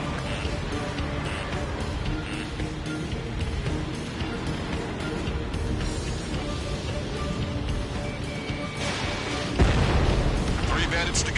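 Jet combat in Ace Combat 7 with booming missile launches and explosions over a constant engine roar, then a heavy blast near the end, under radio chatter.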